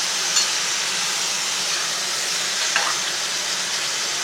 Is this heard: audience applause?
no